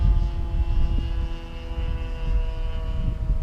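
An RC model propeller airplane, a non-jet plane run on a LiPo battery, drones with a steady whining engine hum that holds fairly constant with slight pitch shifts throughout.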